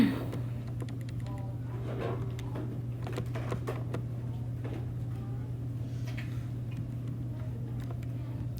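Keys are tapped on a calculator at an irregular pace, a run of small dry clicks over a steady electrical hum in a quiet room.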